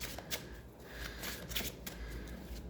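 Tarot cards are shuffled close by in a steady papery riffle of quick flicks, soft but continuous, with no voice over it.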